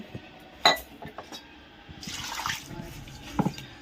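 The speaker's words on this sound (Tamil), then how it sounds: "இப்போ அரிசி மட்டும் ஊற வச்சிட போகிறோம்" Water poured into a vessel to soak rice. A sharp clink from the container comes first, then a soft splashing pour and another brief clink, all nearby and with no speech.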